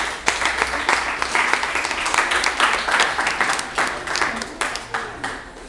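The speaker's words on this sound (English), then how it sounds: "Please give them a round of applause." Crowd applause at a project launch ceremony: steady dense clapping from many hands, sustained and fairly close, with no talk over it.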